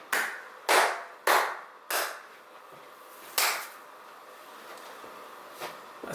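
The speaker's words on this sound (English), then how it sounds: "I'll clap." Several sharp, isolated hand claps ring out close by in an irregular sequence, four in quick succession, then one more after a pause and a fainter one near the end, each with a short room echo.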